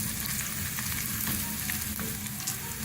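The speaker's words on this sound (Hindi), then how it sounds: "हल्का सा फ्राई करेंगे। जैसे थोड़ा सा ब्राउन हो जाएगा फिर शामिल करेंगे।" Ginger frying lightly in a pan for mash dal gives a steady, even sizzle with faint crackles, continuous and close, with no voices.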